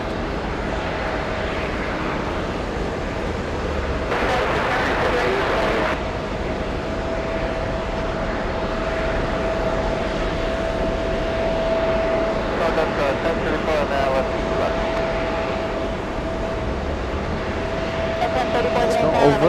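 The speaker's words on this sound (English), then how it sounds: "Let me show you another Air India flight. This 777, heavily delayed." An Air India Boeing 777 at JFK airport produces a steady, moderately distant jet engine roar with a sustained whine, rising briefly in intensity, while someone talks over it.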